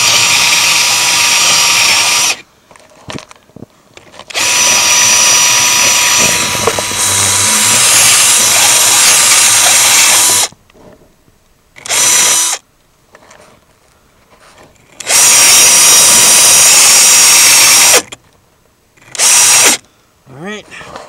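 Power drill grinding a burr out of a makeshift metal strut, loud whining bursts repeated several times with short pauses between, running alone without talk.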